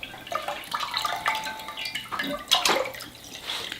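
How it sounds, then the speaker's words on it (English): Kombucha liquid pours into a jar in an uneven splashing, gurgling stream with drips, close and moderately loud, with no speech. "So I'm gonna go ahead and pour that in here now."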